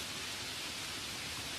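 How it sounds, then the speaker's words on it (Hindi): Heavy rain heard from a train, a steady, even hiss of downpour, fairly faint and unbroken for the whole short stretch, with no voices. "बाहर की जोरदार बारिश और गरजती बिजली की आवाजें उसे बार बार विचलित कर रही थीं"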